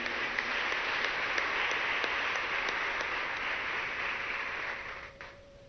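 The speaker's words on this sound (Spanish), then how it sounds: "Les damos un aplauso a las cumpleañeras." A church congregation at Mass applauds birthday celebrants with steady, moderately loud clapping that holds for several seconds, then tapers off and stops near the end.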